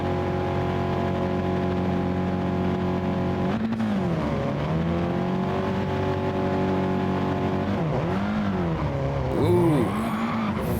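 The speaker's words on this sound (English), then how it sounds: "a lot of front wheel spin, and we're off" A race car in Gran Turismo Sport spins its front wheels at the race start, a steady engine drone giving way to revving and squealing tires that rise and dip as the car pulls away, loud and close.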